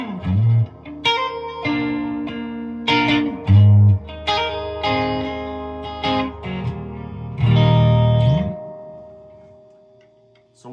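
An electric guitar plays through an El Diablo 100 amp with reverb, chords and single notes ringing out with long washy tails over about ten seconds before fading away.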